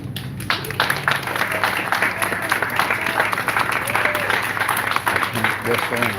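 An audience at a rally to curb gun violence in Stockton, California claps and cheers in a steady burst of applause, with voices and whoops mixed into the crowd noise.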